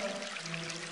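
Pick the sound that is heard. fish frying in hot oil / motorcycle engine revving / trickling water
trickling water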